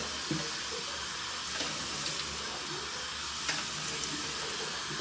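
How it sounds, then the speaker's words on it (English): Tap water runs steadily into a sink as a man splashes his face before shaving, a quiet, even hiss of flowing water with a few faint splashes and no talk. "splash some water on my face"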